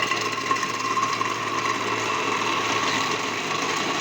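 An electric blender whirs steadily, blending chopped mangoes with cream for mango ice cream, a continuous close motor hum with no pauses.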